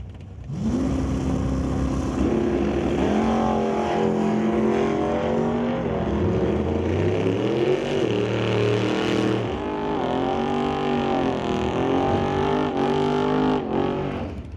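A 1988 Ford Mustang Fox body and a 1967 Chevrolet Camaro launching in a Super Pro drag race, loud engines revving and climbing through gear changes, roaring continuously up close.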